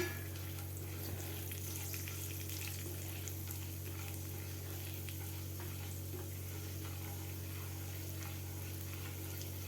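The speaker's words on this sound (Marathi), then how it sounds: "ह्या डाळी आपल्याला थोड्याशा 1 मिनिटभर परतून घ्यायच्या आहेत" Urad dal frying in hot oil for lemon rice, a constant, even hiss with faint crackle throughout, close and unbroken, no voices.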